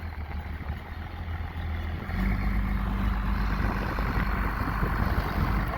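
A large truck with big tires idles with a deep, steady rumble, then the engine note rises and grows louder and heavier as it strains against the brakes, holding at a strong, constant drone.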